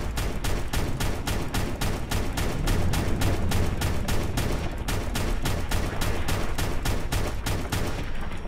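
Rapid repeated gunfire in the video game Fallout 4, some twenty sharp shots fired in a steady, evenly spaced rhythm, loud and close with no talk over it.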